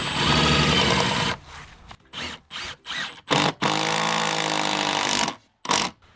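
A power tool drives 10-inch log screws while insulated metal skirting is fitted around a shed. One long whirring run is followed by several short stop-start bursts as the screw is seated, loud and close with pauses between.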